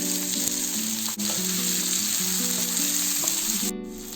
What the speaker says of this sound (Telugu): ఉల్లిపాయ ముక్కలు వేసుకోవాలి.